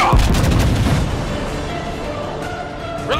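A single heavy naval gun blast from a warship video game, fired at the battleship Tirpitz: one loud close boom at the start that rolls off into a long, fading rumble.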